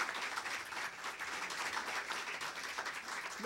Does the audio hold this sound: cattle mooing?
no